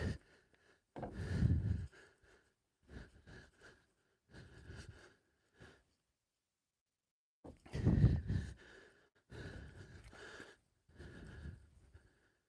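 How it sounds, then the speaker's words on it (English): Heavy breathing from a man working on a detailing job, close and loud, a series of rough huffs and sighs in bursts separated by short pauses, with no talking. "Now I am breathing heavy because this is a pain."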